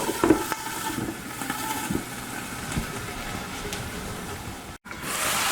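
Asparagus and red onion under a lid in a pan give a steady, moderately quiet sizzle with faint crackles and soft knocks, broken once by a brief dropout near the end.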